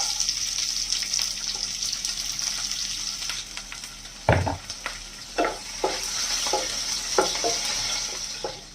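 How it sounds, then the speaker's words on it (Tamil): Chopped onion and garlic frying in hot oil in a pan, a steady sizzle under occasional stirring and clattering, with no talking. "பூண்டு பொரிஞ்சதுக்கப்புறம் ஆனியன் இந்த மாதிரி பாக்ஸாக கட் பண்ணி வச்சுருக்கேன்,"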